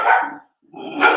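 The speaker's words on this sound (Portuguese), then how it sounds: "Olha o meu cachorro." Pet dog barking at home, two loud, close barks separated by a short pause.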